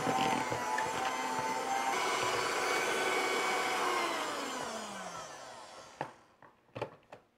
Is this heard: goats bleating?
no